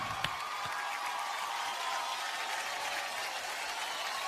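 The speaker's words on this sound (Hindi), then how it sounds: "इस टीम के लिए जोरदार तालियां होनी चाहिए।" Steady, dense applause from an audience at an awards show for the winning team of a drama series, an even, sustained roar of clapping across the whole stretch with no voices standing out.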